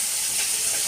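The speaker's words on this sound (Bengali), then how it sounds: "মাছ ভাজছি" Parshe fish frying in oil in a pan, a brief close, steady sizzle with a fine crackling hiss.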